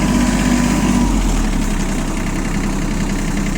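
A small ISEKI SIAL TF223F tractor rolls forward in first gear, its steady engine a loud, continuous drone that holds an even rhythm throughout, close to the listener with no voices.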